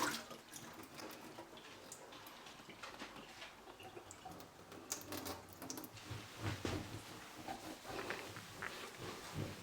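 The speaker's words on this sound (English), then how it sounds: "I'm just going to pour it onto the sink to make sure everything's officially rinsed off" Water poured from a kettle into a sink to rinse off a citric acid cleaning, a steady splashing and gurgling stream that swells louder toward the end, close and without talk.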